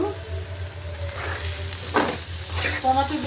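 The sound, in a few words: onions frying in a pan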